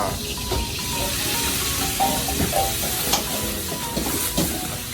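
A chef stir-fries a Thai street-food dish in a hot pan, producing a loud, close sizzle and hiss broken by quick scraping and tossing clatters.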